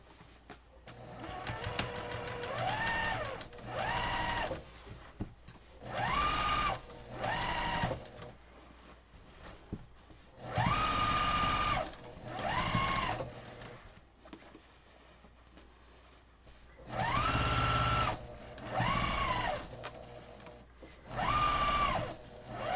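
Sewing machine stitching an 18-inch pillow, whirring in repeated bursts of a few seconds each with rising and falling motor pitch, separated by short quiet pauses, close and fairly loud.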